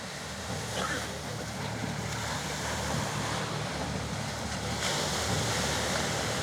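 Sea waves wash onto a shore where divers have come in from the water, a steady broadband roar of surf with gusting wind noise throughout, loud and continuous with no clear individual breaks.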